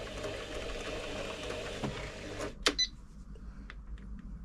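A freshly serviced Elna 3007 sewing machine runs with a quiet mechanical whir and rattle, stops with a click, and a few faint taps follow in a quiet room.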